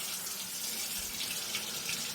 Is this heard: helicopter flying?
no